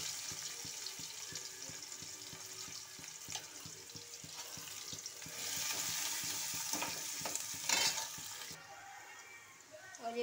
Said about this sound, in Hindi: तो ये मैं दाल छौंक रही हूँ, तेल गरम हो गया है, जीरा हींग डाल दिया है